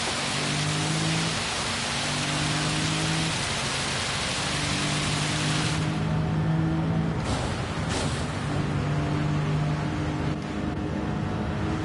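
Steady rain hiss from a wet-weather race in Gran Turismo 7 at Dragon Trail Gardens, a dense, constant wash with low engine hum underneath, slight dips in the middle, no voices.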